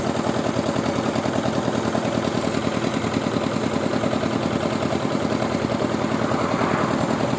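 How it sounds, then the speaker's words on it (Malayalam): A motorbike engine runs through floodwater on a flooded highway road, a loud steady throbbing drone close by that holds an even pulse throughout, with no voices. "അതാ ഒരു ബൈക്ക് വരുന്നുണ്ട് കേട്ടോ."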